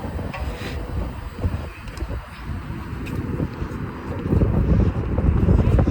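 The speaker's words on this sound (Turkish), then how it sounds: "burası bayağı bir esiyor" Strong wind buffeting the microphone at the highest point of a high viewpoint, a steady low roar that swells louder toward the end, with no voices.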